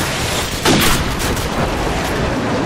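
Heavy, booming blasts from an airstrike in Call of Duty 4 rumble through a constant battlefield din, with one stronger thump early on standing out from the sustained roar.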